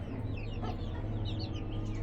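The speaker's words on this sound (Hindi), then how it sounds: "आ गए नीचे खड़ा है जी हमारा पीला मुर्गा। पीला बड़ी प्यारी क्रीज कर रहा है" A yellow rooster in a backyard poultry setup gives faint, short rising calls over a steady low hum, with no one speaking.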